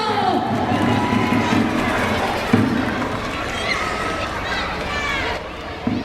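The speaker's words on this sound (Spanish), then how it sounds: "¡Aplauso!" Outdoor crowd at a children's event in Ourense's Praza Maior, applauding and cheering continuously at moderate distance, with scattered children's shouts and voices mixed in throughout.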